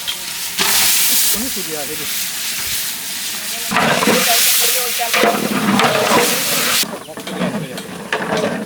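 Beef sizzles in oil and tehari masala inside a cooking pot, a loud continuous frying hiss with stirring scrapes and swells as the meat is added and moved around.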